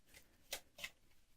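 Two quick riffling bursts of tarot cards being shuffled by hand, soft and close, separated by a short pause over a quiet room.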